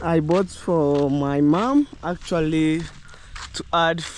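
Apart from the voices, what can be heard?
No everyday noises stand out.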